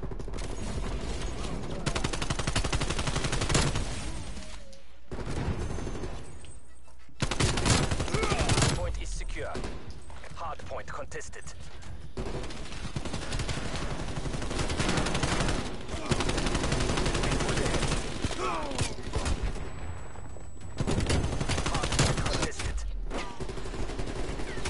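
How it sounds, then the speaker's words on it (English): Dense, nonstop automatic gunfire and rapid bursts from a Call of Duty: Black Ops Cold War hardpoint match, loud and continuous with brief gaps, mixed with game sounds and occasional voice talking over it. "All you hear is just shooting 24/7."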